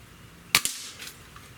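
A Sig Sauer ASP20 break barrel air rifle fires a single pellet shot through a chronograph, giving one sharp, close crack followed by a quick metallic echo and quiet afterward.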